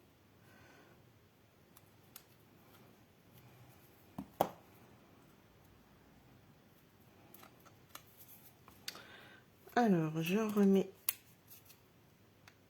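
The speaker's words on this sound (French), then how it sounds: "j'avais oublié de préparer ma paire de ciseaux" Scissors snip paper for a craft project, one short burst of close, crisp cutting late in the clip after quiet rustling, with a person speaking briefly beforehand.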